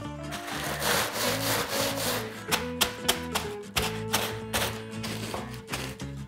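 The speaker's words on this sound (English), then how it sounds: "So now that we've all done a really good job on crushing up our biscuits" Digestive-style biscuits crushed with a rolling pin on a kitchen counter, the tea towel just lifted off to finish rolling: steady rolling and rubbing crunches with a few sharper knocks of the wooden pin, close and fairly loud, no talking.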